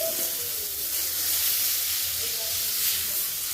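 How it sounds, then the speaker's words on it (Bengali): Red amaranth greens tempered in hot oil give a steady, close sizzling hiss that holds evenly from start to finish, with low background rumble and no voices. "লাল শাকটা হচ্ছে বাগার দিলাম"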